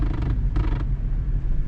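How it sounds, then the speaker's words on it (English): Interior plastic trim chatters inside a manual Audi C7 S6 on the move, two short rattling bursts over a constant low cabin and road rumble. "like the plastics are chattering."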